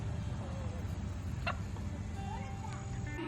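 A chicken wanders a garden and gives a few short clucks, faint against steady background noise, with people talking nearby.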